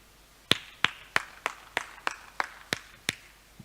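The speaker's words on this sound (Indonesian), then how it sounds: "saya tepuk tangan deh buat Tuhan" Hand claps from someone leading a church sermon, about nine sharp, evenly spaced claps in a steady rhythm, fairly close and alone with no talking.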